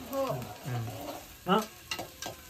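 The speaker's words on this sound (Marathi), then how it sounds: "लसूण आणि कांदा मिरची वगैरे टाकलीस ना सगळा तेलावर" Garlic, onion and green chili fry in hot oil in a pan over a wood-fired stove, making a steady close sizzle with occasional stirring scrapes and bursts.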